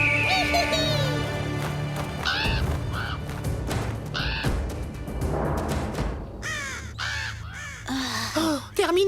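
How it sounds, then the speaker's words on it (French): Crows in an animated cartoon caw repeatedly, harsh rasping calls coming in bursts from several birds, loud and close, with flapping and rustling between them. "Terminé, les corbeaux abandonnent carrément."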